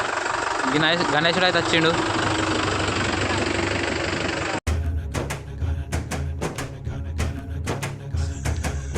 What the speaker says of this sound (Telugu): ట్రాక్టర్ అయితే రివర్స్ చేస్తుండు